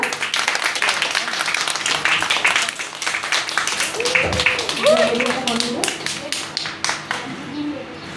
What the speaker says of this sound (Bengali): সকালে জোরে একটা করতালি দেবে